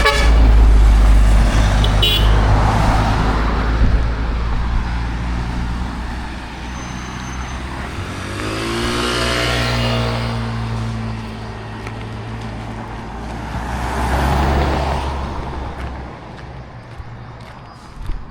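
Highway traffic roars past with vehicles approaching and receding, loud low engine rumble throughout and a horn toot early on, swelling again near the end.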